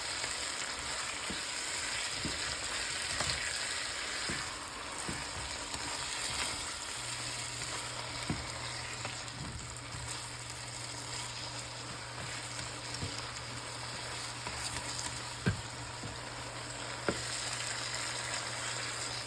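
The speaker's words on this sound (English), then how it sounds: "Just stir our ochros back in." Okra stirred back into a frying tomato stew makes a steady moderate sizzle, with repeated soft spoon taps and scrapes against the pot throughout and a low hum in the background.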